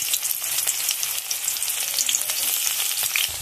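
Chopped onion sizzling in hot oil in a wok, a steady bright crackle and hiss that stays close and even, with occasional louder pops and no talking.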